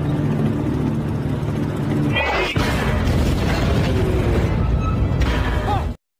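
A German Tiger tank fires on a tank column in the war film Fury: a low, rumbling engine drone swells into one heavy blast partway through, then a sustained roaring rumble.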